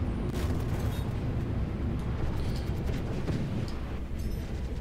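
Spaceship weapons fire during a Vanguard versus Scorpius dogfight in Star Citizen, a dense continuous rumble of blasts and booms with thin high zaps on top, loud throughout, with no talking.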